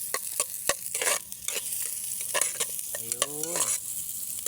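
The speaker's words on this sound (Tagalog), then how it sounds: "Sunod natin na ibutangin itong onion na may pagkasibuyasin. Ating tuyok-tuyokin uli" Onion stir-fries in a pan with garlic, making a crackling sizzle broken by repeated sharp spatula scrapes and clacks against the metal, close and fairly loud.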